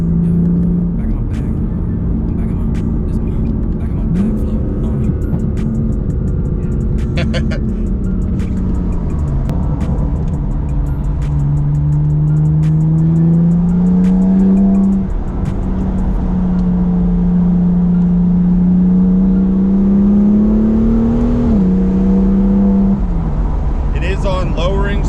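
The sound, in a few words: BMW M4 twin turbo exhaust revving and accelerating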